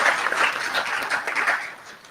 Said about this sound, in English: So big round of applause for them.